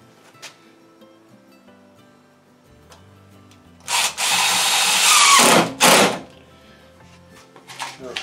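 Power drill driving 1-inch screws into plastic lattice, heard as a loud whirring burst of about two seconds, a short pause, then another brief burst, with quiet handling noise before and after.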